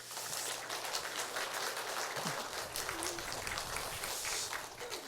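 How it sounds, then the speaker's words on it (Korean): A church congregation in Korea claps to encourage standing elders, steady dense applause filling the room without any voices. "우리 박수라도 쳐서 격려하도록 하겠습니다"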